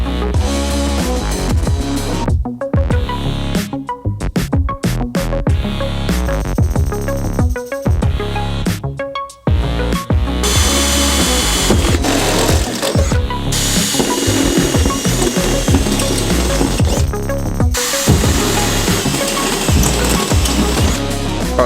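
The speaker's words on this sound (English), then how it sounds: "the holes are drilled in the cover for the trailer" A power drill bores guide holes in a trailer cover on a rooftop tent camper trailer build, whining in loud close bursts with short stops between holes, then running longer and steadier.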